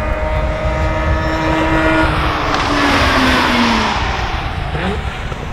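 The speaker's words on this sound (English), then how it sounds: "The exhaust note of the rotary is one of the greatest things I've ever heard" A Mazda RX8 rotary engine's exhaust note rises and falls as the car passes, loud and sustained with a sweeping pitch change, no talking.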